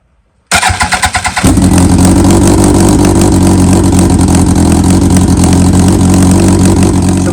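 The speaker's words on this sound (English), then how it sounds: "since this exhaust is cracked and it's broken all over the place, the bike's going to sound like crap" An early-2000s Yamaha R1 sport bike with a cracked exhaust cranks and fires up, then settles into a loud, rough, raspy idle close to the microphone.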